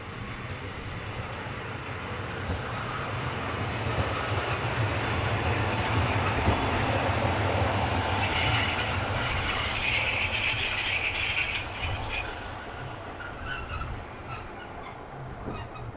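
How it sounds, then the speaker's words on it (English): A single diesel railcar runs around its trailer unit at a junction station, with a steady rumbling engine and rolling wheels building and then easing, plus high wheel squeal, close and loud throughout with no voices. "single railcar number 810625 is seen running around its trailer unit after arriving from Prajevice"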